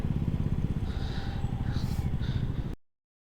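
A motorcycle engine thrums steadily at close range while riding on a group bike ride to Kasmal near Pen, a low rhythmic rumble with wind noise, cutting off abruptly at the end.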